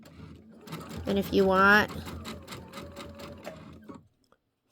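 A sewing machine stitches pieces for a quilt block in a close, rapid whirring run with a brief louder surge, and a voice talks over it before it stops.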